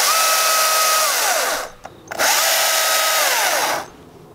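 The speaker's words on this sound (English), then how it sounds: "I'm going to pull off the chain brake, mash the starter, the throttle button," Stihl battery chainsaw running in two loud bursts, each a high electric whine that spins up, holds steady, then winds down, with a short pause between them and close to the listener.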